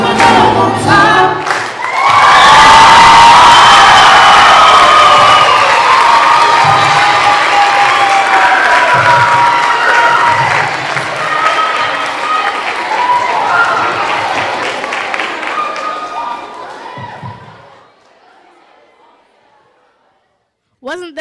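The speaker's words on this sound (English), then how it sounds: "Let's give them another round of applause." Loud audience applause and cheering with shouts erupts after a singers' performance at the Love Out Loud 2013 event, sustained for about fifteen seconds before fading out.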